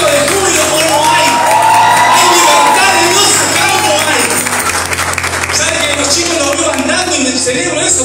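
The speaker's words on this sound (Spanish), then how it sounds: "¡Hay gritos de júbilo como no hay!" Loud congregational cheering in a church, whoops and joyful shouts layered over clapping, sustained and crowded, with voices rising and falling throughout.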